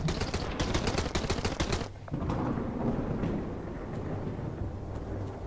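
Rapid gunfire from a shotgun battle in the survival game Sunkenland, a dense burst of repeated shots up front that gives way to a rumbling, chaotic firefight continuing in the background.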